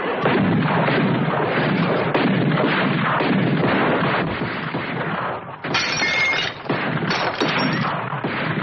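Gunfire in an old Western comedy standoff, a sustained, loud barrage of shots and crashing impacts filling the scene with little pause, ending in a few sharper bursts.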